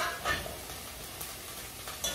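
Vegetables cook in a pan as TikTok-style Philly cheesesteak sliders are made, giving a faint steady sizzle with a few soft stirring scrapes and taps, close but quiet, and no one talking.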